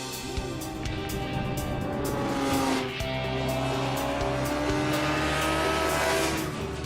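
A Suzuki GSX-R1000 street motorcycle races past on a track, a loud continuous engine roar with rising and falling pitch sweeps as it passes, no voices.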